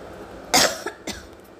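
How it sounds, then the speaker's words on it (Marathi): Two short dry coughs from one person, close and distinct, with a slight throat sound between them and quiet around them. "खोकला पण मला खूप येत आहे, त्यामुळे मी खोकला पण रोखू शकत नाही"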